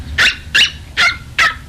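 A dog gives four sharp, loud barks at an even pace, close by, with no talking over them.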